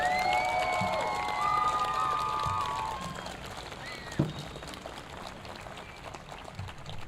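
Middle school graduation crowd applauding and cheering for a row of graduates, a moderately distant wash of clapping that gradually thins out, with whistles and a few shouts near the start.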